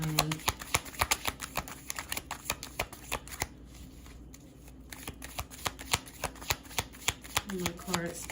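Tarot cards being shuffled up close in a steady run of quick papery riffles and taps, briefly pausing midway before resuming, with a voice speaking faintly near the end.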